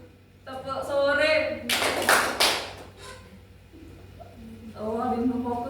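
A group of students claps a short burst of hands in a classroom clapping game of counted claps. Talk and instructions come before and after the quick flurry.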